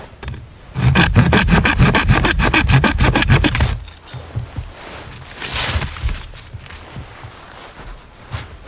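A sharpened saw back on a bushcraft machete rasps through wood in a loud, rapid run of regular back-and-forth strokes, then stops; quieter scraping and handling noises follow.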